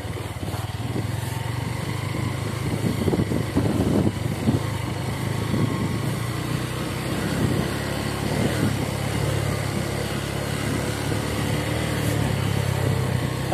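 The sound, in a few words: city bike motorcycle riding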